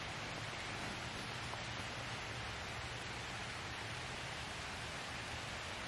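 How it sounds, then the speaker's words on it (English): Steady rain falling in the woods near an old family cemetery in a deserted village, a dense even hiss that continues unbroken and fairly soft, with no voices. "it's raining right now"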